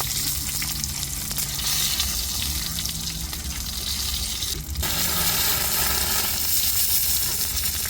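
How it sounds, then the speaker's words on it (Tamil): Steady, crackling sizzle of fish frying in hot oil, continuous and fairly loud throughout with a dense hiss. "மீனையுமே இப்படி இந்த மாதிரி எண்ணெயில் பொரிச்சு எடுத்துக்கிடுவோம்."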